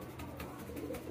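Pigeons cooing inside a pigeon farm, a low steady murmuring coo that runs continuously at moderate level over a dense background hum.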